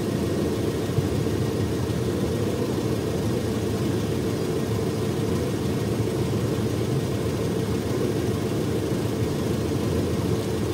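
A new Proton Saga's 1.5L I-GT engine idles with the air-conditioning switched off, a steady, unchanging low hum and broadband whoosh held evenly throughout.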